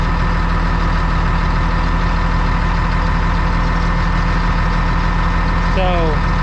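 A Caterpillar D6 dozer engine runs at high RPM, a loud, steady, continuous drone with a constant low hum and no pauses throughout.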